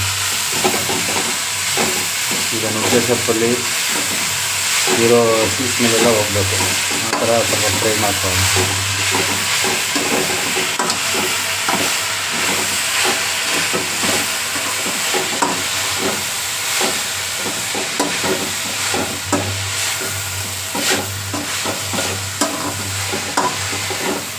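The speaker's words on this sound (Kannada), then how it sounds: "ಚೆನ್ನಾಗಿ ಮಿಕ್ಸ್ ಮಾಡ್ಕೊಳ್ಳೋಣ" Moringa leaves and egg being stirred together in a hot pan for a stir-fry, with a steady frying sizzle and frequent scraping stirs running close and continuous throughout.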